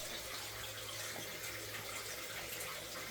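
Clean spring groundwater wells up under pressure and flows downhill inside a stone spring house near Stephens Falls in Governor Dodge State Park, giving a faint, steady, unbroken trickle and gush.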